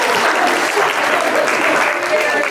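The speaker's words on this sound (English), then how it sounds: "Give yourselves a round of applause." Lecture audience giving themselves a round of applause, a dense, even burst of many hands clapping close and loud, sustained steadily for a couple of seconds.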